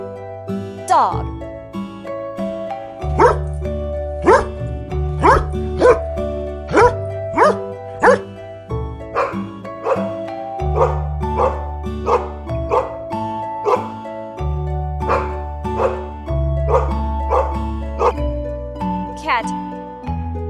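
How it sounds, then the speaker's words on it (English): Dog barking in a fast, repeated series of loud, close barks with a few yips mixed in, with no talk, over a steady tonal background. "Dog."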